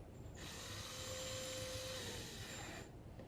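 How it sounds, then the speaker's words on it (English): A Ryobi power drill runs steadily for about two and a half seconds with a high whine, close and fairly quiet, starting and stopping cleanly, during bird engraving work. "I'm using the Ryobi drill here"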